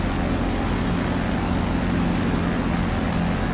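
A Corsair fighter in the DCS flight simulator approaches to land on a carrier deck, its propeller engine a loud, steady droning roar that holds constant throughout, no voices.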